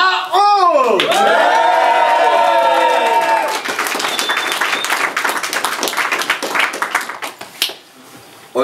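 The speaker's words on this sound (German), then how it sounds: "dafür gehört ein riesen Applaus her für Madame Chaot" Loud crowd applause and cheering break out at a women's battle rap event in Cologne, following a short sung or spoken intro; clapping swells, stays dense, then thins out toward the end.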